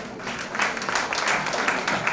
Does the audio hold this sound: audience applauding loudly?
yes